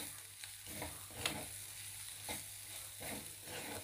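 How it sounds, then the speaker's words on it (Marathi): A spoon stirs karela (bitter gourd) chutney with freshly added chopped coriander, making soft rhythmic scrapes at regular intervals over a low sizzle and a faint hum, with no voices. "कोथिंबीर टाकून ही चटणी पुन्हा एकदा मिक्स करून घेऊ"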